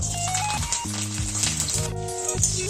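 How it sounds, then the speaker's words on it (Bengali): Garlic frying in hot oil in a kadai, giving a continuous crackling sizzle close up that plays under steady background music. "তেল গরম হয়ে গেছে প্রথমে রসুন ভেজে নেব"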